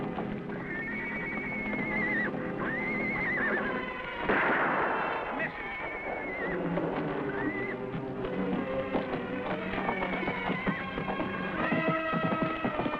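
A renegade stallion whinnies shrilly several times in a row, its neighs rising and falling over sharp gunshot-like blasts and hoof noise, with voices occasionally heard in the mix.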